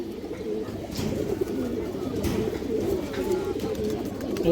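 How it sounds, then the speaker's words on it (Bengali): A Lal Chulli female pigeon coos in soft, low repeated murmurs, close by and continuous, with faint bird movement and background noise around it. "লাল চুল্লি মাদি কৌতর আছে যে দেখেন"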